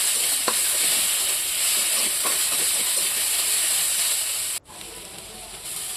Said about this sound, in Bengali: ওর মধ্যে টমেটো কুচি দিয়ে দেব, পেঁয়াজ কুচি দিয়ে দেব, দিয়ে ভালো করে নাড়াচাড়া করে নেব